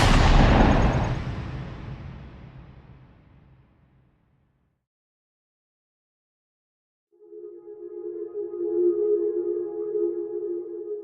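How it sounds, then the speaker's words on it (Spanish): One loud gunshot inside a room in an audio story, with a long reverberant tail that fades into silence, followed later by a steady low droning tone. "escuchó un disparo el cual resonó por toda la habitación"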